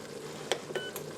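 Ninja Foodi pressure cooker cancelling browning mode, sounding a few short, quiet electronic beeps in quick succession against a faint kitchen hum.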